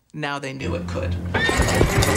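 A horse whinnies loudly and close as it strains to pull, testing oil pipeline pressure, its neigh falling in pitch, then hooves clatter amid rattling and shifting noise, with a voice talking over it.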